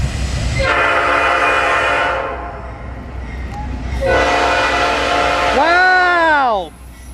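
Norfolk Southern southbound intermodal train in Marion, Ohio sounding its horn in two long loud blasts close by, the second bending down in pitch as it passes, over steady rail rumble.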